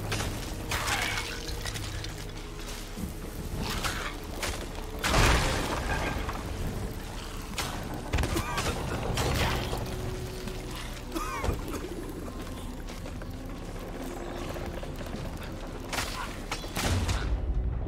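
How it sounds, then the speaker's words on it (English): Water flooding into a ship's hull in the pirate game Sea of Thieves: rushing, splashing pours mixed with clattering impacts and bursts of game action, dense and loud across the whole stretch, with no clear talk. "Oh yeah, we're taking on water, fast."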